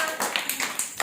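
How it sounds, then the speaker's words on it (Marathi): Small children clap in short bursts for a rangoli drawing, several quick claps spaced through the moment amid a bright, noisy room. "छान, टाळ्या वाजवा."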